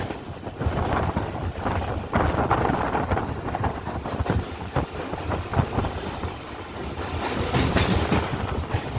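An EMU local train on the Howrah to Digha summer special run rolls steadily along, with continuous rumbling wheels, rattling carriages and heavy wind buffeting the microphone, and no talk.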